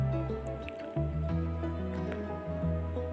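Wet squishing and sticky dripping sounds as bhindi (okra) is tossed by hand with ajwain, black pepper and salt, steady and close under a constant low background hum.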